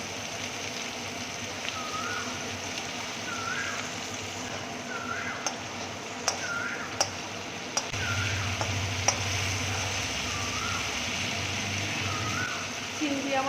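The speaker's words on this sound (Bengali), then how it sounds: "গ্যাস কমিয়ে দিয়ে আমি কিন্তু চিংড়িটাকে হালকা করে ভাজবো।" Prawns fry gently in a pan over lowered gas, giving a soft, steady sizzle with a few sharp clicks and taps from stirring; a low rumble joins in during the second half.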